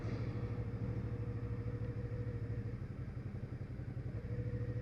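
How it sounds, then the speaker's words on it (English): A Suzuki V-Strom 650 XT V-twin engine idles with a steady, rhythmic low thrum, close and continuous throughout. "Nice little thrum of the V-twin."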